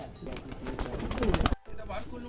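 Pigeons cooing close by in a loft during a pigeon sale, soft repeated throaty coos under a person talking, then a brief silence before the cooing resumes.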